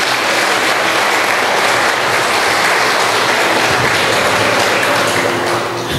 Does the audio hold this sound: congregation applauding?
yes